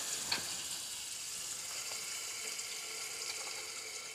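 Minced meat fries in a pan with ground tomatoes added, giving a steady, soft sizzle with a few faint stirring clicks throughout and no voices.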